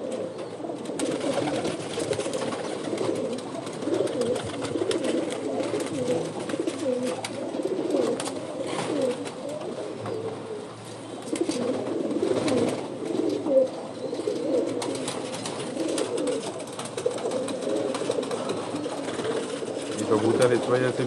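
Many caged pigeons coo steadily in a dense, overlapping chorus that never stops, close by and fairly loud, with brief fluttering bursts now and then.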